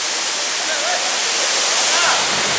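Bee Fall waterfall at Pachmarhi roars in a loud, steady, close wash of falling water that fills the whole moment without a break.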